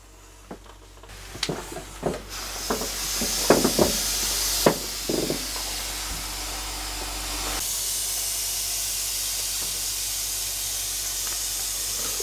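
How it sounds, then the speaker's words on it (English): A stranded boat's engine coolant hisses and sputters with a few sharp pops early on, then settles into a steady loud steaming hiss as it boils over. "So our coolant is actually boiling and bubbling."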